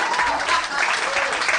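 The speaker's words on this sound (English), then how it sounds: "Everybody who's applauding has taken every bloody second of their life to get here" Live comedy show audience applauding, a brief dense burst of clapping filling the room at a steady loud level, with a voice over it.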